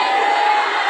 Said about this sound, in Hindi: जोर से चिल्लाओ हालेलुया